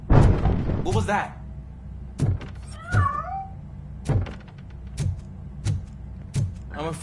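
Short cat meows from a cat heard in a game, a few brief calls scattered among thumps and door sounds over a low background hum.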